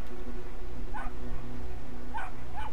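A dog barks a few times, sharp and mid-distance, in the video game Brothers: A Tale of Two Sons, set over a steady low game ambience and hum.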